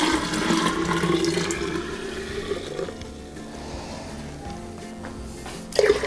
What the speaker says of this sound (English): I'm going to add that to my beverage dispenser.